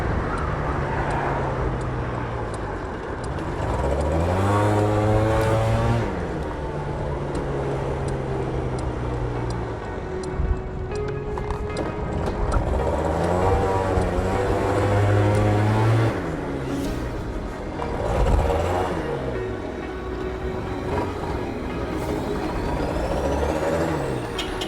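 Yamaha BWS 100 scooter fitted with a Malossi 125cc kit and stock exhaust, engine running loud and steady with rising and falling revs throughout, no talking.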